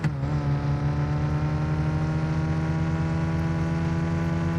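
A car engine in a demolition derby video game drones loud and steady, a dense harmonic hum holding constant pitch throughout with no pauses or talk.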